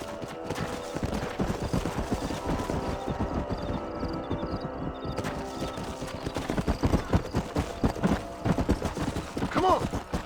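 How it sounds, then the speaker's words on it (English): A herd of horses trots in Red Dead Redemption, with dense, continuous clip-clop hoofbeats close by and a brief whinny near the end, over a faint background bed of game ambience. "We have to move this group of horses to Go."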